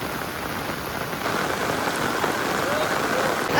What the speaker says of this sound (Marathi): खूप जोरदार पाऊस चालू आहे आणि पाऊस थांबतच नाही